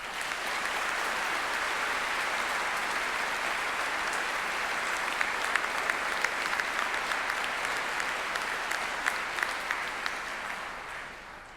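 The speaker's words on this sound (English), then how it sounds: "show them your appreciation by a round of applause." A graduation ceremony audience at Monash University applauds steadily for about eleven seconds, a dense, even wash of many hands clapping that swells slightly near the end before fading.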